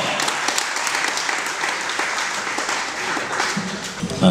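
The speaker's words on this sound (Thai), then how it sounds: "ขอเสียงดังๆต้อนรับคุณเนวินชิดชอบ" A crowd at a Buriram United football club thank-you party in 2014 claps and applauds steadily to welcome Newin Chidchob, a dense wash of many hands at moderate distance, sustained throughout with a slight swell at the very end.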